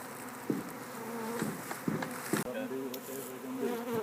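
Honey bees buzz around a beekeeper's hive, a dense steady drone with individual insects zipping close past the microphone, no talking.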